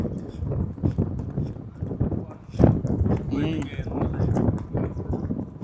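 A mare being ridden produces irregular clip-clopping hooves under almost constant speech from a rider, with gusts of wind buffeting the microphone throughout.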